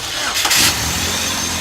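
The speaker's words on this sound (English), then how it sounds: "my colleague's going to turn the engine running." A car engine cranks and catches during fuel-system troubleshooting, firing up with a loud burst before settling into a steady idle.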